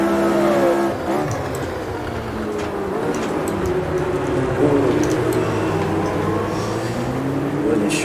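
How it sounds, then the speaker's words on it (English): A Lotus 49C race car in a racing sim video game accelerates at Jerez, its engine revving and rising through first and second gear with pitch sweeps and gear changes, loud and continuous. "first and second gear acceleration, I have to be so ginger on the throttle"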